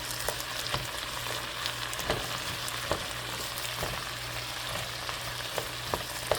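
Cabbage for a chipotle beef veggie soup sizzles steadily in a hot frying pan, with scraping stirring strokes recurring about once a second, close and alone without talk.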